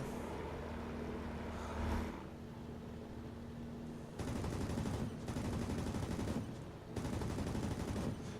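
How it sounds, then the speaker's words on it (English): Machine guns firing from a fighter plane in the World of Warplanes video game, two long sustained bursts of rapid fire over a steady engine drone. "And I can keep on blasting away with my 6 machine guns as long as I damn well please"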